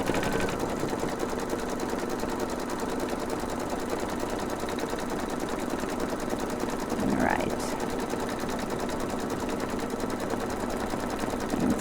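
An embroidery machine stitches a mini composition notebook design with a continuous rapid mechanical chatter and hum that holds steady and near throughout, with no talking.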